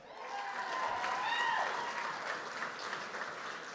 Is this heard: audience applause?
yes